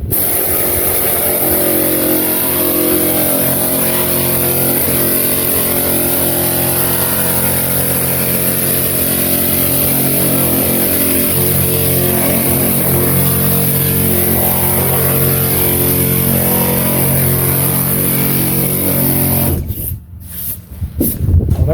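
A Baxter air file sander from Harbor Freight runs with a steady, loud pneumatic whine and buzzing vibration throughout, then cuts off near the end with a few sputtering bursts.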